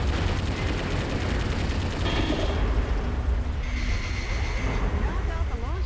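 Explosions and gunfire in Metal Wolf Chaos, a dense continuous barrage of blasts and rapid weapon fire with mechanical clatter, loud throughout with voices in the mix.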